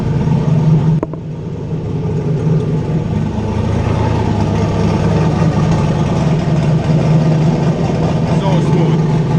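A Chevstang V8 fitted with Snake Eater 1500cc injectors idles steadily and loudly up close, a continuous low rumble after a brief knock near the start.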